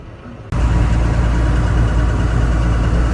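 Pickup truck engine idling steadily and close by with a low rumble while the truck pulls over and backs up on a farm road, starting abruptly after a brief quiet moment and continuing unbroken.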